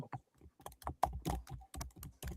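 Someone types slowly and forcefully on a laptop keyboard, making a dozen or so distinct, close key clacks in an uneven rhythm, some louder than others, with no talking.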